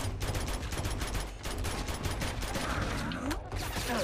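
Rapid, dense automatic gunfire rattles almost continuously in a firefight in the video game Uncharted 2, loud and close with only brief gaps.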